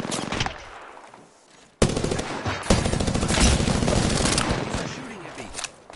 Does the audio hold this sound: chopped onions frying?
no